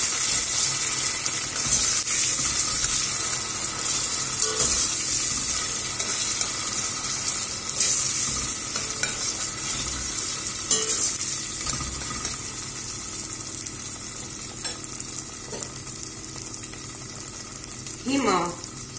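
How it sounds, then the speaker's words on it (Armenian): Bean stew base of golden onion with tomato paste and pepper paste being stirred in a pot, a steady sizzle and fry with scattered spoon scrapes and clinks, close and moderately loud throughout. "լավ խառնում ենք"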